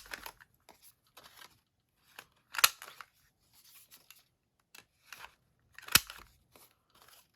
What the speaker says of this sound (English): Let's be fancy and trim all of our corners so they're nice and round.